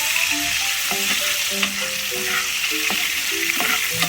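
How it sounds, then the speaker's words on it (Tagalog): Kare-kare sauce for pork being stirred in a sizzling pan, a continuous close frying hiss broken by repeated scrapes and taps of a spoon against the pan. "So stir lang tayo guys para makuha natin yung orange na kulay."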